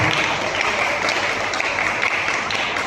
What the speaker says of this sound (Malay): berikan tepukan kepada Ahli